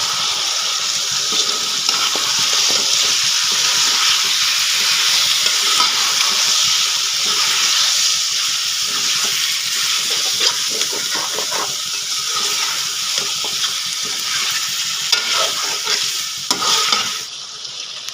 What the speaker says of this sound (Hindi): इसमें टमाटर ऐड करेंगे और इसको अच्छी तरीके से मिक्स करेंगे।